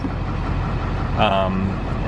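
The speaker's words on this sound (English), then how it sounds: "You can probably hear the bus running in the background." A bus used as a van-life home runs its engine in the background, a low steady rumble that continues beneath a person talking close by.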